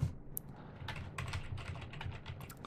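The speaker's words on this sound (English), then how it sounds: "Type in your password and authenticate." Computer keyboard keys tapped quickly and close by to enter a password on an Ubuntu 18.04 machine, an uneven run of light clicks with no talk.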